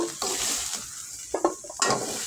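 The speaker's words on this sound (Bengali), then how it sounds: "সয়াবিন আলু হালকা করে মোটামুটি ভাজা হয়ে গেছে" Soybean chunks and potatoes fry in a pan with a soft, steady sizzle, broken by a few sharp clinks and scrapes of a utensil stirring against the metal, with no voices heard.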